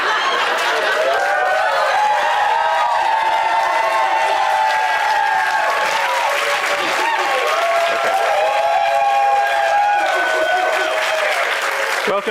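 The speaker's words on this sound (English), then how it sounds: "welcome me again with a round of applause" A large live debate audience claps in a sustained, loud round of applause with some cheering and crowd murmur, steady throughout.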